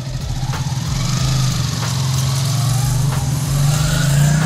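A motorbike engine idles steadily after a gear shift, its low rumble close and continuous with a slight rise in revs near the end, no talk over it.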